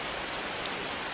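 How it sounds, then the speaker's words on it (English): Rain falling in a rainforest, heard as a steady, dense wash of broadband patter with no breaks and no voices. "Very unusual to see rain around here."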